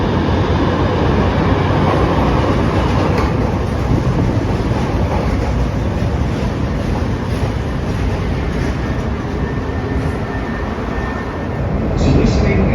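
A CTA Brown Line train at Western station in Chicago, rumbling steadily with a broad continuous roar and rattle of wheels on rail for the whole stretch, swelling slightly near the end; an announcement voice is faintly present.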